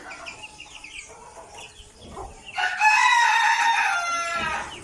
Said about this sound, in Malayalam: എൻ്റെ അടുത്തുള്ളത് കോഴിയാണ്